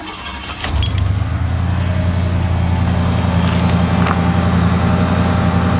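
A 1981 Cadillac with a 368 engine cranks briefly and fires, then settles into a steady, loud, close high idle that runs on without a break. Keys jangle faintly near the start.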